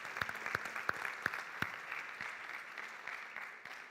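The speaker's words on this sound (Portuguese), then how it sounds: "Aplaude a Jesus pela vida do pastor Zé Carlos." Church congregation at a conference clapping, a few distinct sharp claps over a soft spread of scattered applause in a reverberant hall, fading toward the end.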